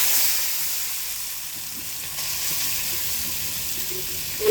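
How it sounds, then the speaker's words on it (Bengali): Small local puti fish coated in turmeric, chili and salt frying in hot oil, a steady bright sizzle with soft crackle that holds evenly throughout, close and fairly loud, with no one talking. "আজকে মাছগুলো মাখাই নিছি হলুদ মরিচ দিয়ে, লবণ দিয়া, তেলে দিয়ে দিব।"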